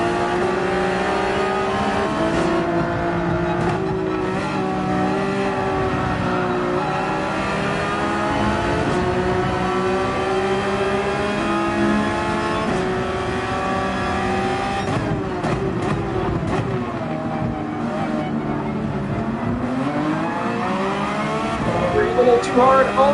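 A race car engine in a racing game at Barcelona drones and revs continuously, its pitch climbing and falling through gear changes, with a voice talking over it throughout.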